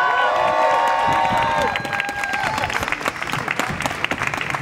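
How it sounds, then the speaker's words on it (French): Crowd applause and cheering at an occupation of La Monnaie opera house in Brussels: a brief sung or whistled tone fades into sustained clapping from many people, with scattered shouts and crowd noise, loud and fairly close. "Je leur propose un dernier applaudissement quand même."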